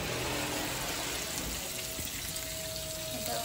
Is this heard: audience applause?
no